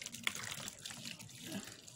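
Hot water pours into a bowl to set up a double boiler for making turmeric oil, a quiet splashing trickle with small uneven bursts over about two seconds and no talking.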